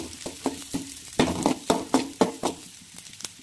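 Onions and green chilies fry in a little oil while a spoon stirs them, giving a quiet sizzle broken by regular scraping strokes against the pan, roughly two or three per second.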